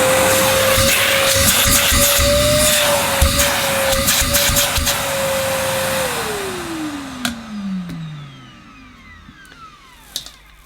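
Millenea Apollo 1 egg-shaped vacuum cleaner running with a steady motor whine, then switched off so the pitch winds down smoothly over a few seconds, followed by faint clicks and knocks.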